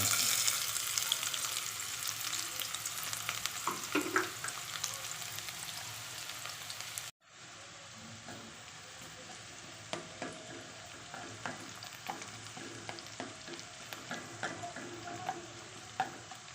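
Finely chopped onions fry in a pan with a steady, dense sizzle that runs throughout, broken by a brief cut partway, with occasional stirring clicks and scrapes close by.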